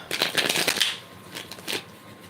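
A quick riffle of playing cards being shuffled close up, a burst of rapid flutters followed by a couple of softer taps.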